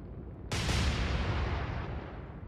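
Warship gunfire in the naval video game Atlantic Fleet: one sudden loud heavy cannon boom that rolls into a long rumbling tail fading over about two seconds, with no speech.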